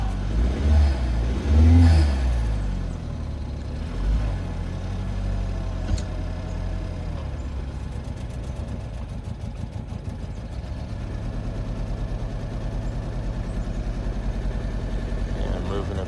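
A 2014 BMW 328 at a police towing auction is jump-started and revved, with a low engine roar that holds a steady, loud drone throughout, with voices talking over it at the start.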